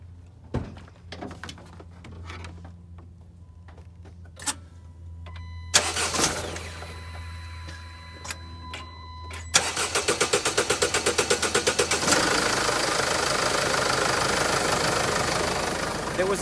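A Mercedes Sprinter van engine, fresh from an oil change and fuel filter swap, cranks after some quiet clicks and catches, settling into a loud, steady, close-up idle with a rapid rhythmic clatter.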